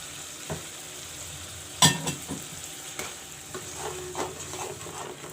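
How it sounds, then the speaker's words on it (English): Masala with turmeric and two spoons of chili powder frying for a village-style fish curry: a continuous close sizzle broken by a loud metal scrape and several lighter stirring clatters. "And let the masala fry."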